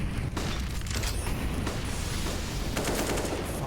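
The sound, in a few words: Desert Eagle pistol shots in the video game Counter-Strike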